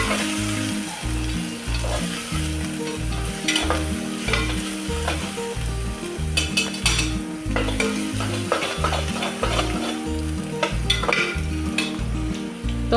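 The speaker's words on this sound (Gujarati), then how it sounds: "હવે આપણે એડ કરીશું આદુ લસણ મરચાંની પેસ્ટ. એને સરસ રીતે થોડી વાર છાકળી લઈશું." Ginger-garlic-chili paste sizzles and fries with browned onions in a pan, stirred steadily throughout with a rhythmic scraping, loud and close, with no voices.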